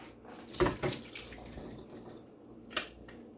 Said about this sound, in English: I'm going to rinse them.